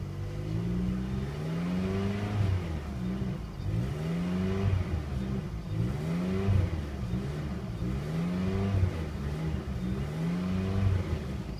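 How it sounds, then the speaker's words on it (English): A 2001 Pontiac Grand Am's 2.4 Twin Cam engine with 153,876 miles, run on a wrecking-yard test, revving up and settling back in repeated smooth rises, loud and close with no talk over it. "Revs up nice and smooth."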